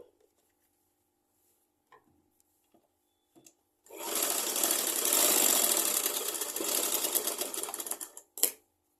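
A sewing machine stitches the neck section of a blouse in one continuous run of about four and a half seconds, fast and even. Small handling clicks come first, and a short knock follows when it stops.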